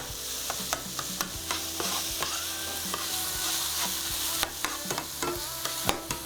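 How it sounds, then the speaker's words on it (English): Sausage sizzles and browns in a hot pan, with steady frying hiss broken by frequent clinks and scrapes of a utensil stirring and turning it close up, no talking. "As that starts to brown up nicely."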